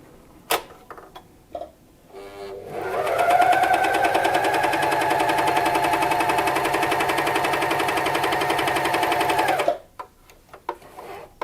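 A Juki MCS 1800 coverstitch machine runs a seam through sturdy lycra, a loud, steady whirring hum with rapid needle ticking that lasts about seven seconds, preceded and followed by a few faint clicks and handling noises.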